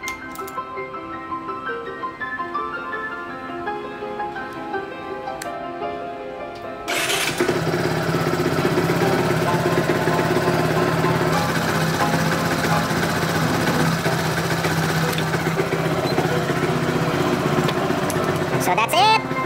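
After a few seconds of quiet background noise, an FZ motorcycle engine starts and idles steadily, a loud continuous rumble close by.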